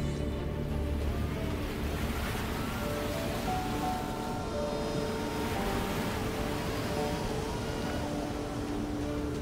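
Large ocean waves roll and crash continuously, a dense, steady roar of surf with wind, loud and unbroken throughout.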